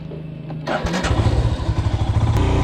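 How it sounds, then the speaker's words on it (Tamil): Motorcycle engine on a hilly forest road from Coimbatore to Manjoor, starting up after a quiet moment and settling into a close, steady throbbing idle with a low rhythmic pulse. "முன்னாடி பைக் சவுண்ட் மட்டும்தான் கேட்குது."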